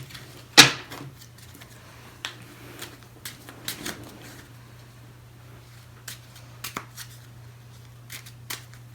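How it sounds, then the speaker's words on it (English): A deck of playing cards is handled and shuffled in someone's hands, giving a sharp riffle at first, then scattered light clicks and taps against a quiet hum. "I want you to shuffle it how many ever times you want"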